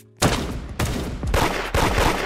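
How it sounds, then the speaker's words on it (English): Gunfire in the Roblox game Da Hood: four sharp, loud shots spaced irregularly over about two seconds, each with a brief ringing tail, alone without talk. "I just shot him in the head"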